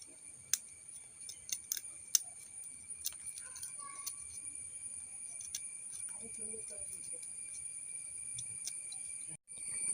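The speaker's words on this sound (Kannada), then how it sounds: "ಇವಾಗ ಸಿಪ್ಪೆ ತೆಗೆದಂಥ ಹಲಸಿನ ಬೀಜವನ್ನು ನಾನು ಕಟ್ ಮಾಡಿಕೊಳ್ತಿದ್ದೇನೆ." Peeled jackfruit seeds are cut one after another, producing sharp, sparse clicks and snips up close over a faint steady background hum.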